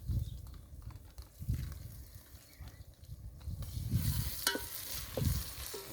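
Chicken curry cooking outdoors in a forest sizzles as homemade ginger garlic paste goes in, with repeated low scraping stirs and clatters of the pot over a quieter frying hiss.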